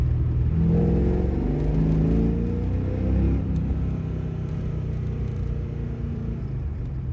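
Ford Mustang with an X-pipe and eBay mufflers, its exhaust rumbling loudly as the engine pulls through an overpass, a steady deep drone with rising revs.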